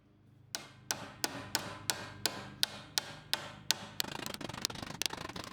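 Annealed brass is hammered over a form to shape the lower bevel corner of ship's-wheel hardware: about a dozen crisp, evenly spaced metallic strikes, close and alone, then a quicker run of lighter taps.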